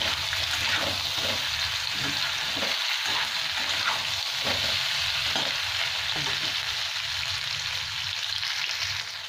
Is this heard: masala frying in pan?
yes